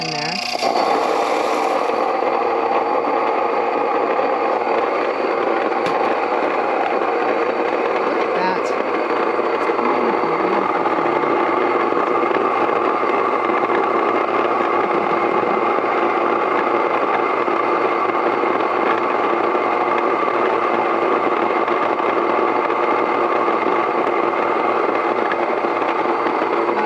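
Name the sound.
grain mill machine grinding ancient grains into flour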